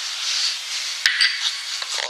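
A spoon scrapes and rubs steadily through biscuit dough with chilli flakes stirred in, close and soft, with a sharp clink against the bowl midway.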